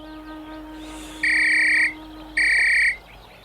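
Two shrill, steady whistle blasts from a cartoon ant character calling his friends, each lasting about half a second with a short gap between, loud and clear over a faint background hum.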